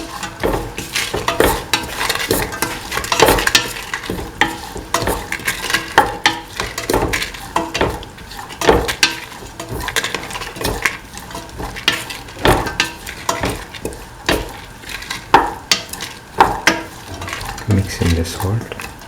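Ivy gourd and green peas with salt get stirred in a pan, a spoon scraping and clacking steadily against the metal over a soft sizzle, close and continuous.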